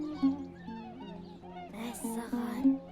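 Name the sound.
flock of birds, geese honking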